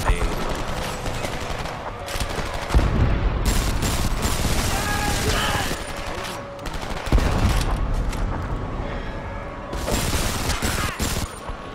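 Heavy artillery barrage from a DPICM strike of ten rounds in the shooter game Homefront, with repeated booming blasts and crackling gunfire rolling on for the whole stretch, loud and dense, with brief voices mixed in.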